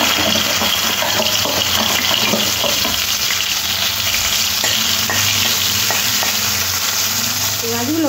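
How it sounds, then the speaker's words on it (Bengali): Shrimp fry in hot oil in a wok, giving a loud, steady, close sizzle that runs without a break, with some faint clatter of stirring and no talking. "प्रथमे कड़ाते तेल दिए और चिंगड़ी माछगुलो एकटु भेजे नेब।"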